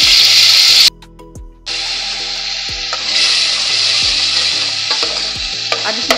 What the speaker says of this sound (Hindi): अब इस मसाले को हम 5 से 10 मिनट तक भूनेंगे